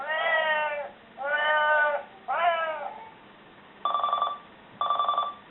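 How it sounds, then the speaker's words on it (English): Three electronic meows in a row from a Cobalt Speechmaster talking calendar clock, each a descending tone, followed by two short chiming rings like a phone bell. "And that one's supposed to be like a cat."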